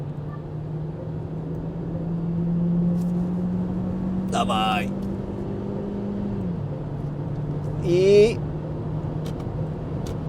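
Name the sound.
Sportequipe 8GT LPG SUV accelerating in sport mode, overtaking truck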